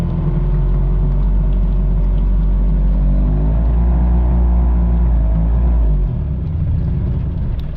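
1998 Mariner Bigfoot 25hp four-stroke outboard engine running with a heavy low rumble, holding steady and loud before the pitch drops sharply near the end, recorded close in the rain.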